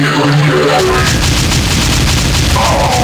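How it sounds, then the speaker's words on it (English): Rapid automatic shotgun blasts from Space Marine enemies in the Doom 2 CUBE mod, a loud continuous barrage of overlapping booming shots with no pauses between them. "And then we have the automatic shotgun friends."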